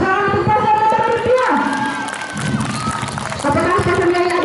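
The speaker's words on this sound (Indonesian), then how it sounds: "Tepuk tangan untuk paslon nomor urut" Applause and cheering from a school audience at a student council election debate for an OSIS chair and vice-chair candidate pair, a loud crowd wash of clapping and shouts that dips midway and swells again.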